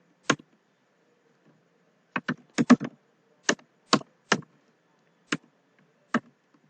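Keystrokes on a computer keyboard while an XPath is typed: a lone tap, then irregular bursts of sharp, close clicks with short pauses between them, and no talk over them.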